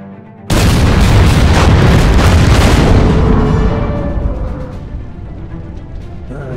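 Warship main guns fire in the WW2 naval strategy game Order of Battle WW2, with a Kriegsmarine ship during Operation Torch: a single loud, close boom with a sharp onset that rolls into a long, decaying rumble lasting several seconds.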